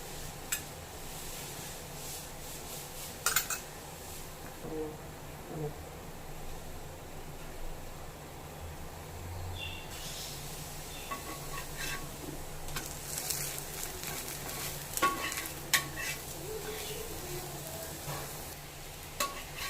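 Dosa batter mixed with drumstick leaves frying in oil on a pan gives a soft, steady sizzle for the whole stretch, with a few brief scrapes and clicks over it and no talking.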